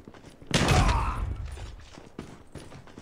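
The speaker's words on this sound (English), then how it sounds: "I'm so bad with the shotgun in this game" A single loud, close shotgun blast booms in Call of Duty Mobile, followed by a decaying tail and a faint mechanical click afterward.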